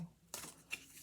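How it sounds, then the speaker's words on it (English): A deck of oracle cards being shuffled, with soft riffling bursts and faint taps against a quiet background. "This is a little bit harder of a deck to"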